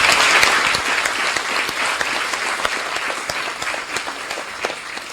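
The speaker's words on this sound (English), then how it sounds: "I think we should give her a round of applause for that" A room full of people at a university gathering with students and staff in Cave Hill applauds steadily, a dense, close wash of many hands clapping that holds an even level for several seconds.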